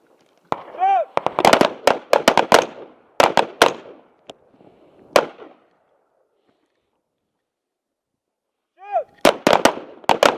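Controlled pairs of gunshots on a tactical training range, fired as fast as the trigger allows: loud, sharp cracks in quick doubles and short clusters, then a pause before more shots. A shouted command is heard near the start.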